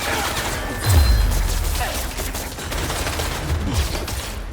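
Enemy gunfire in Marvel's Spider-Man 2, a burst of shots with a heavy low thump near the one-second mark, then continued rattling fire mixed with game noise.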